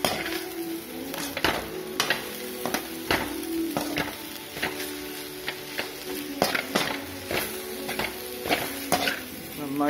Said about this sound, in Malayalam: വെണ്ടയ്ക്ക ഇട്ട് കൊടുത്തിട്ട് നമുക്ക് അതൊന്ന് വഴറ്റിയെടുക്കണം.